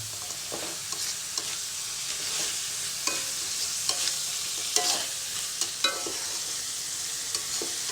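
Jengkol fries in a pan with a little water and gets stirred, giving a close steady sizzle punctuated by sharp scraping and clacking hits from the utensil at irregular intervals, with no voices.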